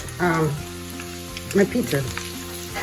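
Steady sizzling of potatoes and eggs frying in a large pan, with a few louder bursts of crackle and stirring scrapes close by.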